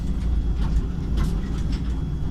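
A train rumbles past, heard from a road vehicle on the way home, as a heavy low-pitched drone with faint clacks and rattles on top, steady and fairly loud throughout.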